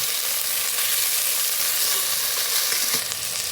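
Ginger garlic paste and onion paste with turmeric frying in a rice cooker, a steady close sizzle with occasional stirring scrapes and no talk.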